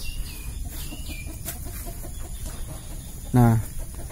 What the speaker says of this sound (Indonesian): Oke, ada ayam ketakutan.